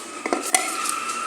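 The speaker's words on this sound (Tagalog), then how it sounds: "kunin natin itong pinggan ko" A dinner plate and utensils handled at a meal of rice and string beans: a few quick clinks and scrapes of dishware, close and brief, with no talking.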